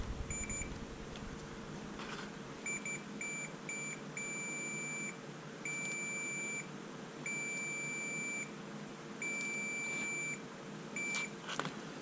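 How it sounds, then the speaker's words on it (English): A multimeter beeps in a run of short and longer tones while testing continuity on a switch from a 1967 Mercury 650 outboard, fairly quiet and close with no talk. "Let's see if we got any continuity on the switch."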